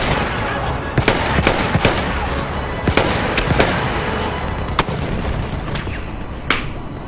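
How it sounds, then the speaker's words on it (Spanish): Rapid gunshots crack repeatedly in uneven bursts over a loud, continuous rumble, sounding like game gunfire with echo, from Battlefield 1's Brusilov Offensive. "Acá suena más bacano los tiros cuando uno dispara"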